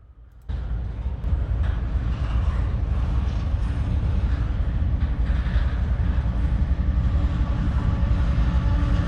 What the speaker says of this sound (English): So this Q500 is a daily manifest train that goes north from the Radnor Yard up to Bar Yard in Chicago, Illinois.